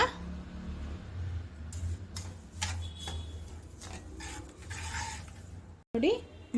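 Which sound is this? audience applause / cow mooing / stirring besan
stirring besan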